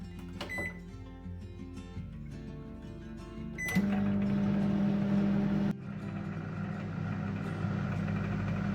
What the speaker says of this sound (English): we're going to put the microwave on for 30 seconds